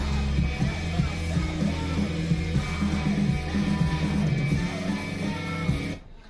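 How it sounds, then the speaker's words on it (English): Screamo music from a four-way split record plays loud and dense, with a layered guitar wall and busy drums. It cuts off abruptly near the end. "I always have screamo. I'm listening to one right now"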